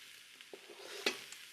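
Tomatoes are added to a hot pan and stirred for a vegan lasagna sauce, giving soft sizzling, a few light scrapes and clicks, and one sharper clatter near the end, all close and fairly quiet.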